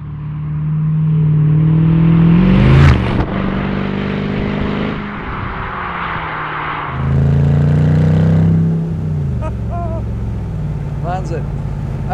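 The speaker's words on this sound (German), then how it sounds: "Also ab einer bestimmten Drehzahl ist der so laut, dass ich mein eigenes Wort hier nicht verstehe." A 2008 Mercedes SLR McLaren Roadster's engine revs loudly while driving, surging in two long, deep bursts that swell and fall off, with someone speaking over the roar and in the quieter gaps.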